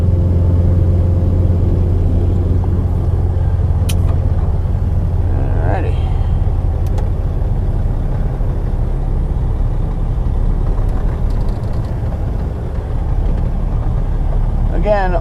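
A semi truck's diesel engine rumbles steadily and close as it pulls out from under a parked trailer, with someone talking over the low drone and occasional faint squeaks.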